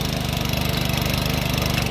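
A small tractor engine rotavating a muddy paddy field for rice planting runs with a steady, rapid chugging pulse, loud and close, with no voices.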